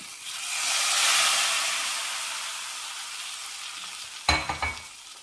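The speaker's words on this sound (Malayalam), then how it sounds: "കടുക് വറുത്തത് കറിയിലേക്ക് ചേർക്കാം" Hot tempering of fried mustard seeds poured into a coconut and raw-mango Manthal fish curry, giving a broad steamy sizzle that swells and slowly fades, then a few sharp clattering knocks near the end.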